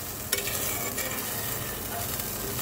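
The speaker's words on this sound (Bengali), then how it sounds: "এখন আমি এটাকে ঠিক মিনিমাম 4 মিনিট জাল করব হাই ফ্লেমে।" Tengra fish dopiaza sizzles steadily in a pan over a high flame, a continuous bright frying hiss with a few soft clicks of stirring.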